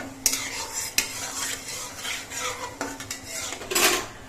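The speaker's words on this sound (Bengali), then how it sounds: "এবার কালো জিরে আর শুকনো লঙ্কাটা একটুখানি সময় ভেজে নিতে হবে।" Dried red chillies and black cumin fry in mustard oil in a pan while a utensil stirs and scrapes. Sharp metallic clinks punctuate a faint, steady sizzle.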